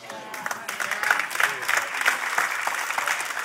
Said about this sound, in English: My applause is dying out.